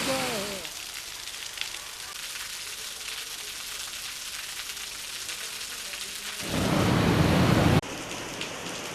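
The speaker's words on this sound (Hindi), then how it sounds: "जिला मुख्यालय सहित मावली, फतेहनगर, भिंडर सहित अनेक हिस्सों में भी हल्की से तेज बारिश हुई।" Heavy rain hisses steadily onto streets in an Indian district. Near the end a louder, closer burst of downpour swells for a second or two and then cuts off abruptly, with no one talking.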